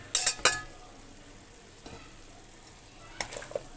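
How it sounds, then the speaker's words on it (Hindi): Beef frying with added spices in a pan while being stirred: a couple of sharp metal clinks and scrapes at the start and again near the end, over a faint steady sizzle. "और अच्छे तरीके से इसको मिक्स करेंगे और इनको फ्राई करेंगे"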